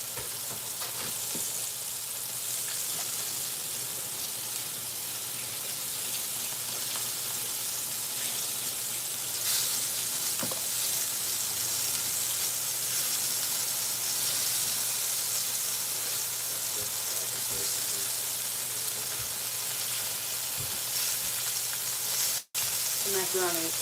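Pork chops fry in a pan with a steady, close, loud sizzle and crackle that continues unbroken for over twenty seconds, with occasional pops and faint background voices.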